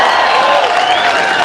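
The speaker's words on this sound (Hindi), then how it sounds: "जोरदार तालियों से फारूक शाब्दी का इस्तकबाल करिएगा।" A crowd at a political gathering applauds loudly to welcome a speaker: a brief, dense burst of clapping with some cheering mixed in, close and sustained.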